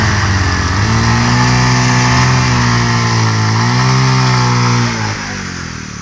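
Bajaj Pulsar motorcycle engine roaring close and loud, revving up and holding a steady high drone with pitch swells for several seconds before easing down to a lower idle.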